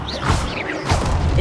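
Shield spell cast in Hogwarts Legacy: loud magical whooshes with swirling, sweeping tones and heavy thuds and impacts, two surges in quick succession amid combat clatter.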